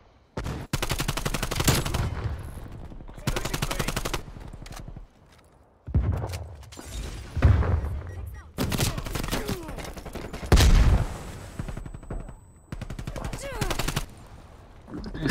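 Video game gunfire from a competitive match, with a shot fired through a wall: repeated loud bursts of rapid shots separated by brief gaps, heard up close and alone.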